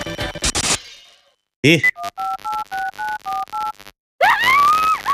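A phone's ringing tone sounds in a mystery courtroom video game: a sharp burst of noise, then a short rising chirp and a rhythmic run of two-tone electronic beeps, ending in a warbling tone, loud and close.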